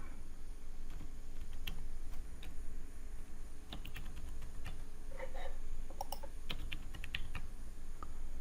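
Password being typed on a computer keyboard during a Windows 10 password reset, scattered soft key taps spread irregularly across several seconds over a steady low room hum.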